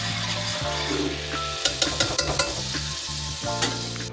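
Hot oil sizzles and crackles steadily with soy sauce frying in it, with a few sharp clicks and pops scattered through.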